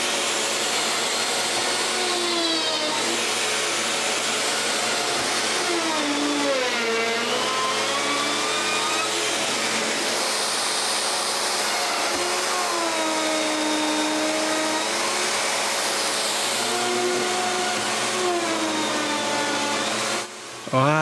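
Power tool cutting slots into wooden soffit boards at a chalet, a loud continuous whining drone with shifting, sweeping pitch held for about twenty seconds.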